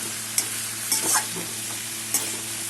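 Vegetables fried and stirred in a pan for a Bengali vegetarian sabji, with a steady close sizzle under a few sharp scraping stirs, no talking.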